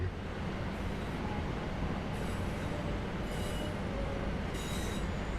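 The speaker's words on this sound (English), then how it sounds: "It seems so weird to drive the train backwards." Train running in the Simtrack Centro 323 train simulator game, a steady rumbling roll with rhythmic rail clicks and periodic brief bursts, heard alone at moderate level.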